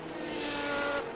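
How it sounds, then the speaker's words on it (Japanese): A Mercedes race car engine at the 1988 Fuji endurance race in Japan makes a loud, steady, high-revving roar that holds for about a second before cutting off abruptly. "このメルセデスは音がいいですね"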